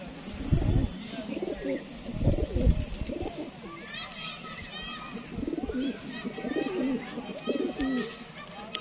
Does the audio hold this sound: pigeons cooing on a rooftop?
yes